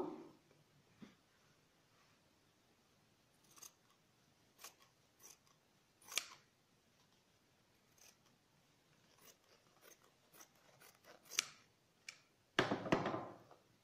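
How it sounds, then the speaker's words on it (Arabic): Scissors snip through a fabric pillow cover in a quiet room, with a dozen or so short, sharp, close cuts spaced irregularly and a denser burst of rustling snips near the end. "بالمقص دلوقتي، افتحها معايا 20 سنتي على قد طول الجراب ده"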